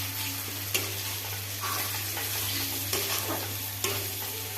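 Chopped tomato is stirred into a masala of ginger and garlic frying in a pan for chicken curry, a steady sizzle running beneath several sharp scrapes of a spoon against the pan.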